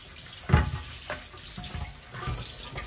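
A tap runs steadily into a sink while a heavy non-stick induction grill pan is washed, with splashes and clunks of the pan under the flowing water; no talking.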